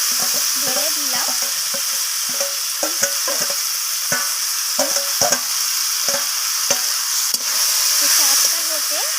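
Red amaranth greens sizzle steadily in hot oil in a wok, with repeated scraping and stirring knocks of a spatula breaking through the constant frying hiss.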